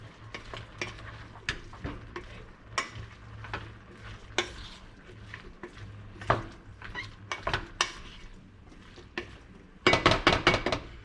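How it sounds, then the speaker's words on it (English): A spoon stirs chopped Roma tomatoes and sautéing vegetables in a chili pot, with a soft sizzle under repeated scraping and clinking strokes against the pot, ending in a quick burst of rapid stirring. "We're gonna give it a quick little stir."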